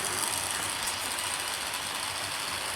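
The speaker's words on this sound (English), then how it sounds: "certainly a little bit of wheel slip there" A Wrenn model locomotive slips its wheels while hauling a heavy rake of coaches, giving a steady, close mechanical whirr and hiss that runs unbroken throughout.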